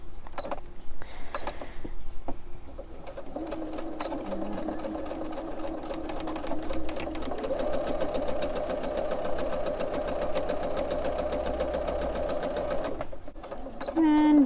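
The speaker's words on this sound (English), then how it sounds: "And then just go ahead and start sewing on the other side." Sewing machine stitching the seam of a pillow slipcover, a steady rapid mechanical whir running almost continuously, close and fairly loud, with a few brief starts and stops around it.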